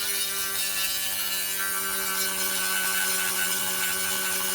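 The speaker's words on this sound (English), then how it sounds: "grab and grind the wood without any problems, even better compared to the metal" A Dremel 4000 high-performance rotary tool grinds wood, a steady high-pitched whine with a dense abrasive hiss holding constant throughout, close and loud with no speech.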